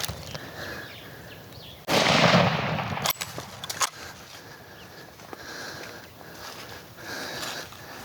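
Hunting rifle shot fired through brush on a Zimbabwe safari, a single loud blast with a short rumbling tail, followed by a few faint clicks and quiet outdoor ambience.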